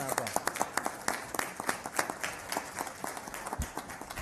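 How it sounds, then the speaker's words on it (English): An audience applauds school counselors at an Atlanta gathering, producing a quick patter of many hands clapping at moderate distance, with some voices mixed in. "Let's give them a round of applause."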